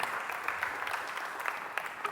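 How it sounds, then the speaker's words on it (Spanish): Audience applause at a Spanish-language talk or event, a steady, even burst of many people clapping together for a couple of seconds, moderately loud and without voices over it. "Cayetana merece un aplauso"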